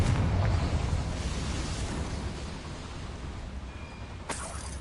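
A Confringo explosion spell in Hogwarts Legacy gives a heavy, rumbling fiery blast that stays dense and loud throughout, with a sharp crack near the end.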